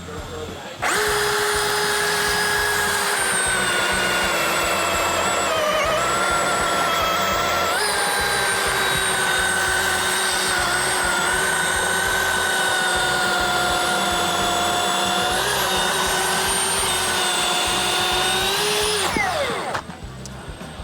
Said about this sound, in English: this is a new Milwaukee saw